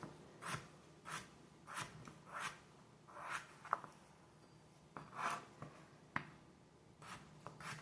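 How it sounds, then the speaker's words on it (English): Knife cutting potatoes on a board in a home kitchen, a steady series of quiet, regularly spaced chops and scrapes, close up with no talk. "I'm gonna cut down the potatoes."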